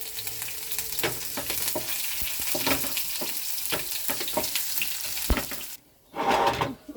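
Grated coconut and ginger fry in a pan with dried red chillies and bay leaves, a steady close sizzle broken by stirring clicks and scrapes, briefly dropping out near the end before resuming.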